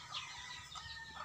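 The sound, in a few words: rooster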